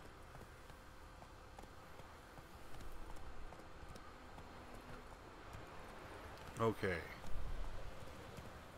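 Horse hooves clip-clopping in the video game Witcher 3, soft and low in the mix, with a brief louder clatter near the end and someone speaking briefly.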